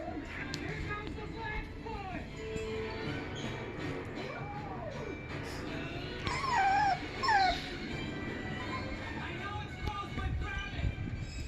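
A dog whimpers and yelps in a series of high, wavering cries, with a louder burst midway, while people talk over a constant background rumble.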